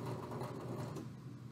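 A sewing machine runs steadily and faintly for a moment while sewing a final backstitch, with no talk.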